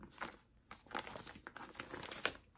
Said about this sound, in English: I'm just gonna zip this one up.